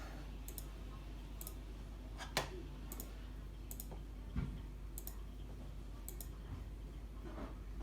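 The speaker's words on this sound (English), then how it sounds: "now I'm holding the shift key and I'm clicking on every item" Computer mouse clicking on a desktop while the shift key is held, a series of small, sharp clicks at irregular intervals with a couple of louder knocks, close and quiet over a steady background hum.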